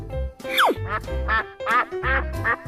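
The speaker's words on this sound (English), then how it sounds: "Quack, quack, quack, quack, quack, quack." A duck quacks repeatedly in a 3D animal video game, loud, bright calls coming in a steady run of five or six with short gaps between them.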